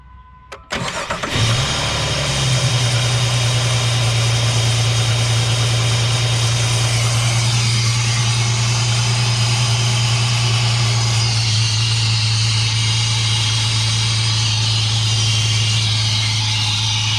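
A Jeep Liberty 3.7L V6 with a new K&N air intake cranks briefly and catches, then settles into a loud, steady idle with a constant low hum that runs on alone for many seconds.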